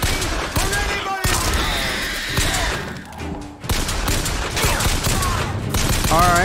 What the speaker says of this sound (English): Alright, I just started shooting.